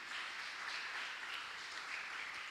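A church congregation applauds during a sermon, steady dense clapping spread across the room at moderate distance with no voices over it.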